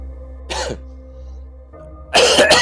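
Two harsh, close coughs from a man, an elderly Haji, break a low background hum, one short burst and then a longer, rougher one at the end.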